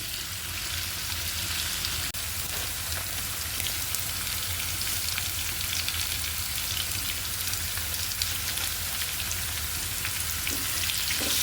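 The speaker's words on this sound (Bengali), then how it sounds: "অফ ক্যামেরায় কিন্তু আমি আলুও দিয়ে দিলাম এটাও কিছুটা ভেজে নিব" Potatoes fry steadily in a pan, a continuous dense sizzle and crackle holding an even level throughout with no talking, close and fairly loud.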